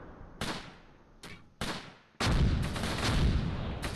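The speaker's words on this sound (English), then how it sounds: "Mortar's falling." Mortar fire in the Close Combat Gateway to Caen war game: several sharp separate blasts, then a sustained heavy roar of explosions and gunfire, loud and close, with no talking.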